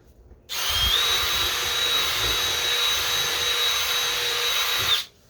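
A power drill whirs steadily at close range for about four and a half seconds, drilling a hole in plastic, starting and stopping abruptly, with no voices.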